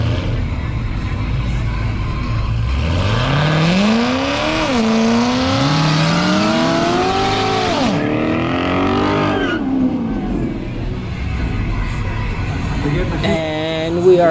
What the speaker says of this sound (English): C7 in the left lane. C7 will win this race.